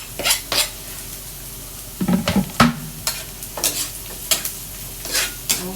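Garlic sizzles in a hot pan with onions while being stirred for a beef burrito filling. A steady frying hiss runs under repeated scraping and clinking strokes of the utensil against the pan.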